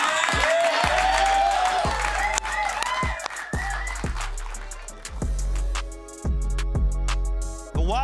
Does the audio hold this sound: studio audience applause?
yes